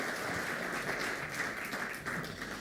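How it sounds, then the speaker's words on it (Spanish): Applause from a church congregation: a steady, dense wash of many hands clapping, moderately loud and continuous, rising and falling slightly without pause. "Por eso yo aplaudo también, porque este aplauso es para Cristo,"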